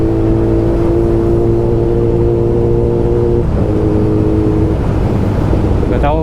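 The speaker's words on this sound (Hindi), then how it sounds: "मतलब इनलाइन 4 का सीन ही होता है, कितना भी तुम गियर पे चला लो, धीरे चला लो, बाइक उतनी ही स्मूथ चलती है।" Steady engine drone of a Kawasaki ZX10R inline-four superbike cruising on a highway, a smooth continuous hum with a brief gear-shift dip midway, loud and close throughout.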